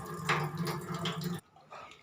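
Water poured into a soybean and potato curry, a short, faint splashing gush that stops abruptly, followed by quiet dribbles.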